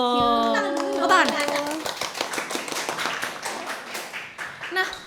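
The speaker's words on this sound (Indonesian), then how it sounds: "Tepuk tangan." Hands clap in quick, uneven taps through a podcast studio setting, starting over a short musical sting and continuing steadily before fading; a few voices linger faintly underneath.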